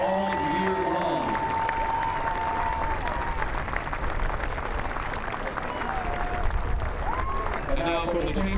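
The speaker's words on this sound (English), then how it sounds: "Let's give the Charleston Cougars a round of applause for their outstanding play all year long" A crowd applauds the Charleston Cougars baseball team at the 2024 CAA baseball championship, sustained clapping and some cheering throughout, with an announcer's voice and a brief whistle-like tone above the crowd.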